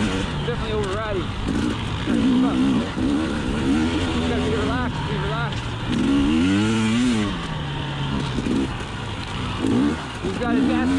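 A 2020 KTM 300xc TPI two-stroke enduro dirt bike rides fast, its engine rising and falling in loud revving sweeps, with people talking over it.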